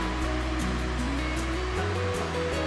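A waterfall in a national forest gives off a continuous, dense roar of rushing water that stays loud and even throughout, with faint tonal hums woven through it.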